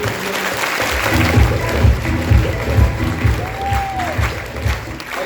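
Loud audience applause at a DXN company event in Bijnor, India: a thick, sustained wash of clapping with crowd noise, under a rhythmic low beat from music.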